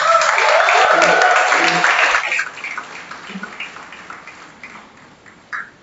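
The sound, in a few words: graduates' round of applause at convocation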